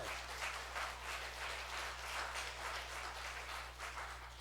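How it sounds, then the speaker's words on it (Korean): Audience in a church service applauds, a quiet, steady patter of many hands that swells and eases slightly, heard somewhat distant beneath a low constant hum. "그런 때는 박수 한번 치셔야 해요"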